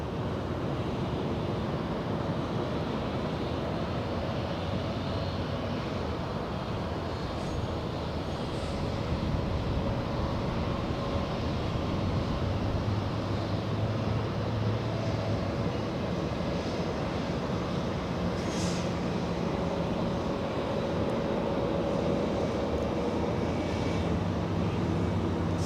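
A roaring jet engine drone fills the air as an airliner takes off from runway 24 left at LAX, loud and continuous, swelling slightly midway with wind-like rush and no voices.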